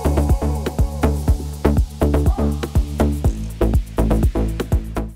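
An electronic track plays with a steady thumping kick on every beat, a thin, soft-edged punch under bright synths and a busy low end.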